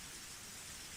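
A torrential downpour of rain gives a steady, dense hiss that stays loud and even for the whole second, with no voices.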